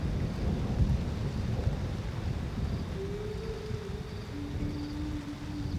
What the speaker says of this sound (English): and it starts to rain in Undutu